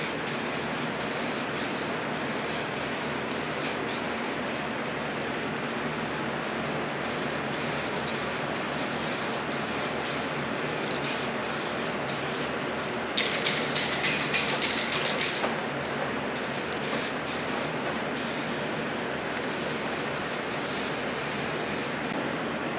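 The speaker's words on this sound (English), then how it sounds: "this is 2 coats of Spray Max 2K Clear over the Duplicolor electric current red Ford color" A Spray Max 2K clear coat aerosol can hisses in long continuous passes over red paint on a drag bike under restoration, steady and close, with brief pauses and a sharper burst midway.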